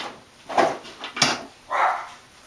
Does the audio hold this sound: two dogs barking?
yes